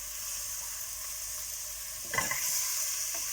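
Chicken and masala sauté in a pan for a Tamil-style chicken soup, giving a faint, even sizzle with a brief clatter of stirring partway through.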